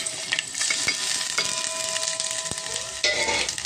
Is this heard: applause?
no